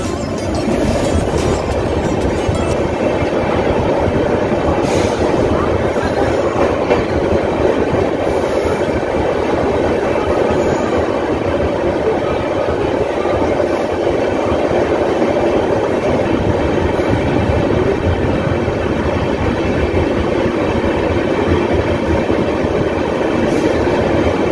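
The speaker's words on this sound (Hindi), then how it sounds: "ट्रेन ने डिपार्चर ले ली है" The Purushottam Express pulls out of Khurda Road Junction with a loud, steady rumble of rolling coaches and clattering wheels that continues without a break, with no voices.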